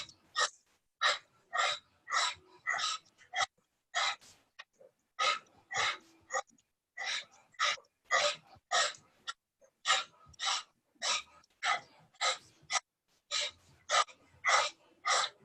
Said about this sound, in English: Powerful breathing.